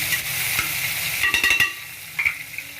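Onions and green chillies sautéing in oil for a country chicken curry, a steady close sizzle with a run of scraping spoon strokes midway.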